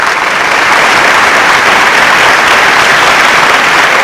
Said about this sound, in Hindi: इस बात पर जरा अली के लिए जोरदार ताली।